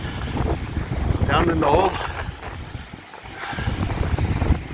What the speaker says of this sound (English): the wind's pushing hard